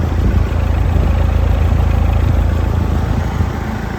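A farm engine fitted with a worn old muffler idles nearby in a low, steady rumble with a fast, even pulse, loud and continuous with no voices over it.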